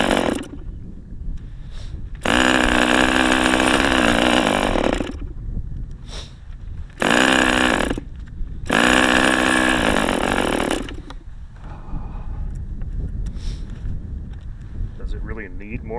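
A small OS 25 FSR model glow engine restarts in cold weather and runs in several loud, high-pitched buzzing bursts broken by short pauses, with a person talking in the gaps between runs.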